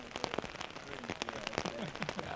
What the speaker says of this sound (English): this is where the rain starts to come down. You can hear it too.